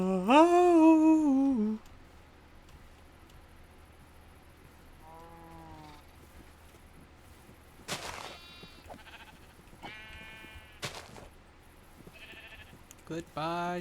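Minecraft sheep bleat in a few short wavering cries, one loud near bleat at the start followed by fainter ones scattered among game sounds.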